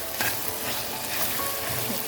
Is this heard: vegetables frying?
yes